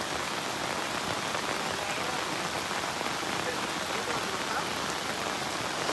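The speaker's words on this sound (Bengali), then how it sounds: "মুসলধারে বৃষ্টি হয়।" A heavy monsoon downpour hammers down in a dense, unbroken hiss of rain on surfaces in a flooded village. It is steady and loud throughout, with only faint hints of voices.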